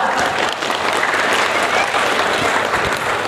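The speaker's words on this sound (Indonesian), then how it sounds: "Tepuk tangan yang meriah sekali lagi" Dense, loud applause from an audience at an Indonesian talk or seminar fills the whole stretch, a steady even roar of many hands with no break.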